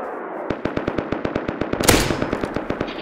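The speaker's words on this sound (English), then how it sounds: "they're all outside shooting at me" Rapid automatic gunfire during a video game raid, a steady rhythm of sharp loud shots with one heavier burst near the middle, no talking.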